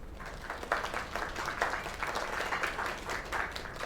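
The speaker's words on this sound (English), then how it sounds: "Another round of applause." An audience applauds a singer, a dense, steady wash of clapping from a crowd at moderate loudness that carries on without pause.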